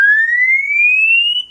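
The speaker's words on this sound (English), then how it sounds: "emergency alarm" The emergency alarm of a Samsung Galaxy Note 5 blares loudly and close, a single piercing electronic tone sweeping slowly upward in pitch before stopping abruptly.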